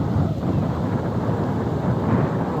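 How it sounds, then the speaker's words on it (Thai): Steady cool wind blowing across open rice fields on a warm day, a broad continuous rush with buffeting on the microphone, loud and constant without any talk. "ลมพัดเย็น"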